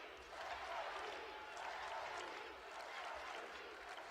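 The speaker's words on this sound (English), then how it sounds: "There's the Chesapeake chants raining down from the crowd here." Basketball crowd at a regional semi-final tournament game between Martins Ferry and Chesapeake, steady loud roar of massed voices and clapping filling the gym, with chanting blended into the din.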